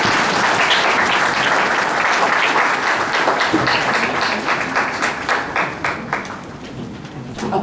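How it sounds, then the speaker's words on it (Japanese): An audience at a classics lecture and symposium in Hakui, Japan, breaks into dense, sustained clapping that stays strong for several seconds, then thins slightly toward the end, with no voices heard over it. "拍手"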